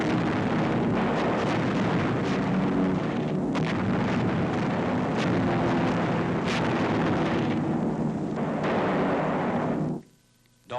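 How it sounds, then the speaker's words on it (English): Wartime incendiary bombs burning out Nazi installations in 1945: a loud, continuous roar of explosions and rumbling blasts with sharp cracks, running steadily before dropping into near silence at the end. "Incendiaries burn out Nazi installations which might disrupt our bridgehead operations."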